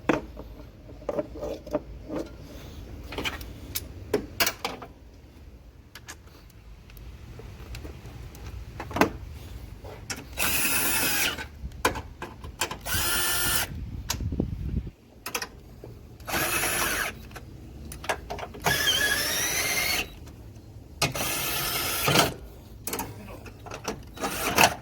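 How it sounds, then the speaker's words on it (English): A ratchet tightens the bolts on a Mitsubishi A/C condenser, producing bursts of rapid metallic clicking close by, separated by quieter handling noises and pauses. "Just make sure everything's tightened up with the ratchet."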